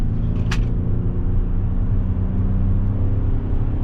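A 2024 Lincoln Nautilus Black Label with a CVT, heard from inside under full-throttle acceleration: a steady, loud low engine drone and road rumble that holds constant throughout, with one brief high tick near the start.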